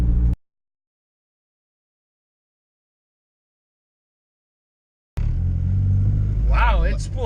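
A turbocharged Honda Integra GSR engine comes in abruptly after a long silence, a near rumbling idle and rev with rising and falling whistling spool tones over the last couple of seconds.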